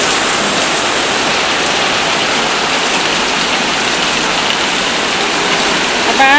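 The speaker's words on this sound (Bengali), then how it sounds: "কি জোর বৃষ্টি নেমেছে" Heavy, wind-driven rain pours down outside near a balcony, a loud, steady, dense hiss and roar that continues unbroken and alone.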